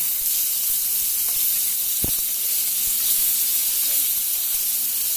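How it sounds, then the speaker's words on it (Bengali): Pangas fish pieces fry in a little hot oil in a wok, giving a steady, close hiss and sizzle with a couple of sharp utensil taps, and no one speaking. "তেলটা গরম হয়ে গেলে দিয়ে দিয়েছি মাছগুলো।"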